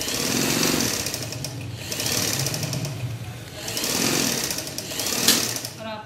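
A sewing machine stitches soft net fabric, its fast mechanical whirring running in several bursts with short pauses, loud and close, with a voice talking over parts of it.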